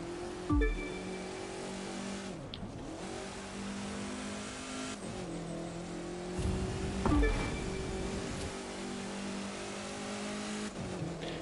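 A rallycross car in The Crew 2 racing game roars continuously at high revs, with engine pitch rising through gears and dropping sharply at several shifts, punctuated by brief thumps and tire noise.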